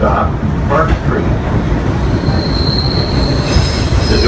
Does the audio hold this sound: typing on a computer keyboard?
no